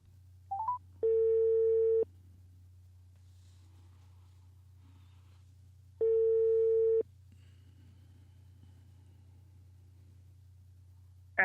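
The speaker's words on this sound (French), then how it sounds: "Alors on appelle la maman de Lucie. Voilà, on est en ligne, on va se connecter." A telephone call being placed: two long, steady ringback tones about four seconds apart, each lasting about a second, over a low constant line hum, with a brief blip at the start and another at the very end. No one speaks.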